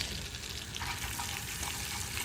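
Chili flakes dropped into melted butter in a pot for Erzincan soup, giving a steady close sizzle and frying hiss with faint stirring, no speech.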